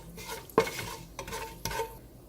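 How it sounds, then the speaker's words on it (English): Whole spices (bay leaf, cardamom, cloves, star anise, black cardamom and a cinnamon stick) stirred in a pan of hot oil, with three distinct scraping strokes over a faint sizzle, close and fairly quiet. "So let's give this a mix."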